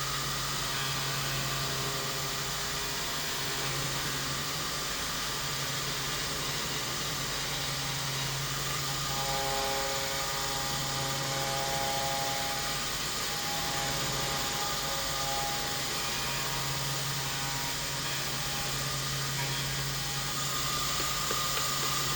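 A machine cutting grooves into the sole of a golf shoe in a cobbler's workshop, a loud continuous whirring hiss with a steady motor hum throughout, close and unbroken, with no talk.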